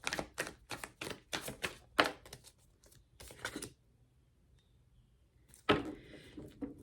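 A deck of tarot cards is shuffled in quick bursts of crisp riffling and tapping, followed by a pause of near silence and then one last rustling shuffle, with no talking.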